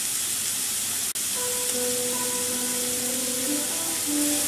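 Onion and zucchini frying in oil in a pot, a loud continuous sizzle and hiss with faint tonal hums beneath and one sharp click near the start.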